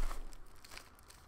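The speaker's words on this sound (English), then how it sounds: "More plastic bags." Plastic bags are crinkled and handled up close, a short burst of dry rustling and crackling that fades slightly toward the end, with no voices.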